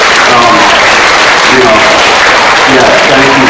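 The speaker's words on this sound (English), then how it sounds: "give them a round of applause" An audience at a 5th grade graduation ceremony claps steadily for the parents and families, a dense, even round of applause in a large room with a voice faintly audible beneath it.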